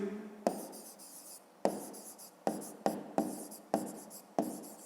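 Pen strokes scratch across paper during a fifth-grade maths exercise, several bursts of writing separated by short pauses, close and fairly quiet with no talking.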